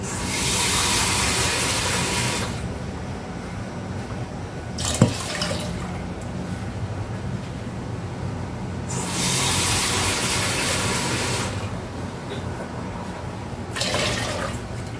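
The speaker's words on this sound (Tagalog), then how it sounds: "So, dagdagan natin yung tubig." Water is added to a cooking pot while making kway teow soup, heard as loud, hissing bursts of pouring or spraying water that start and stop several times at close range.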